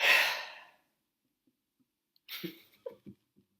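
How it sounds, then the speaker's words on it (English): A single long, forceful exhale of breath rushes out at once, near and fairly loud, trailing into silence before a few soft, quieter breathing and mouth sounds follow. "And then you exhale everything at once."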